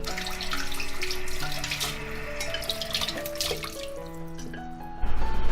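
Water runs steadily from a kitchen tap as blanched chicken pieces are rinsed clean, a continuous splashing flow with a louder gush near the end.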